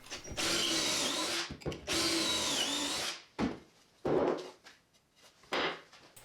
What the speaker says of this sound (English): I'm going to start screwing the pocket holes.